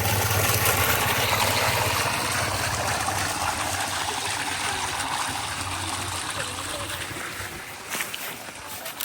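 Water gushing into an already full bucket, a steady close rushing and splashing that runs unbroken for several seconds over a low, constant hum.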